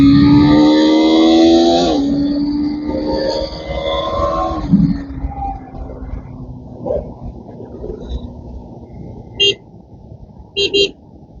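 A KTM RC 390 motorcycle engine is revved with the throttle twisted, climbing loudly in two rising pitch sweeps before dropping to a lower settling drone, followed by a few sharp clicks.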